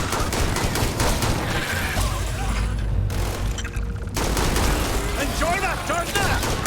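Rapid bursts of gunfire from a new gun in a video game firefight, loud and dense, with a brief lull before the shooting resumes amid explosions and clattering mechanisms.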